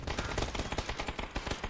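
Rapid bursts of gunfire in a PUBG esports match, a dense barrage of repeated shots in quick succession, loud and continuous with a steady crackling rhythm.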